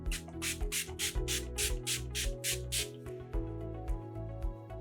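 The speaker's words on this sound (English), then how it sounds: "That is a really nice mist, and it smells great." About ten quick spritzes of a makeup setting spray bottle hiss in a steady rhythm, close and soft, followed by a few fainter puffs.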